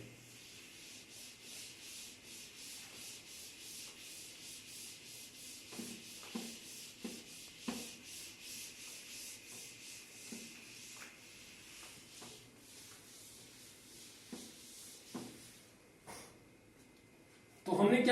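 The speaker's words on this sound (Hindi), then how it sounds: "तो मैं इसको रब करता हूं और आगे बढ़ते हैं।" Repeated rubbing strokes of an eraser wiping a classroom board in a physics lesson, a steady scrubbing texture with sharper swipes toward the end, heard close and fairly quiet with no talk over it.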